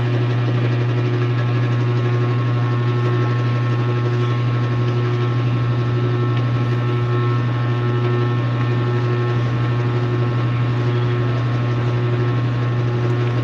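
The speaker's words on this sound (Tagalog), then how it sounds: "Hindi ba maingay yung electric fan ko?" Noisy electric fan running steadily in a bedroom, a loud continuous motor hum and whir with no pauses throughout.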